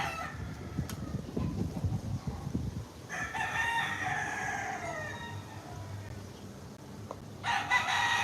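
A rooster crows in a long drawn-out call outdoors on an island, clear and fairly near, with a second crow starting at the end over steady background noise.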